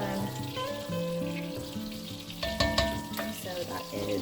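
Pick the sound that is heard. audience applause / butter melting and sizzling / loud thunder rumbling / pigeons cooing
butter melting and sizzling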